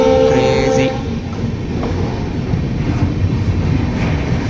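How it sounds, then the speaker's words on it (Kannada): A freight train runs alongside the Rajdhani Express from Bengaluru to New Delhi near Tughlakabad. A loud horn blast opens, then a close, continuous heavy rumble and rail clatter carry on to the end. "ಸೊ ಇದಾದ ಫ್ರೈಟ್ ಟ್ರೈನ್ ಹೊಂಟತಿ."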